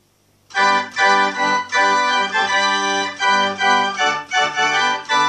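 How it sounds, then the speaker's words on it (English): Full pipe organ with all stops sounds in loud, rich sustained chords, moving through a short passage with brief articulations between phrases. "Sounds a whole lot better if you put the whole organ on."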